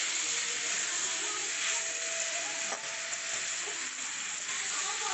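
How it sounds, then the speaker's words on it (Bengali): Boiled chickpeas and potato are stir-fried with spices and asafoetida for a vegetarian curry, producing a steady hissing sizzle with a few soft stirring scrapes, close and without talk. "ভালো করে হচ্ছে মশলার সঙ্গে ছোলা আলুটাকে নেড়ে নিচ্ছি"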